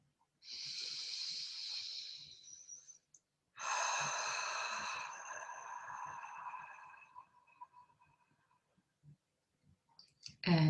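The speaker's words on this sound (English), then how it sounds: "we are going to breathe in deeply 3 times and breathe out through our open mouth" Deep breaths drawn in and pushed out through an open mouth, two long airy exhalations each lasting a few seconds with quiet pauses between, close and fairly soft.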